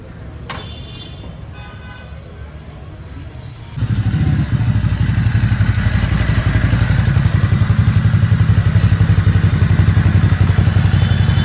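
A 2022 Ducati Hypermotard 950 SP motorcycle engine idles quietly, then jumps to a loud, steady running drone that holds close and strong to the end, with light mechanical clatter and no talk.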